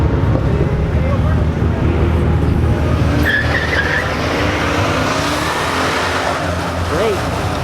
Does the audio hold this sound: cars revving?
yes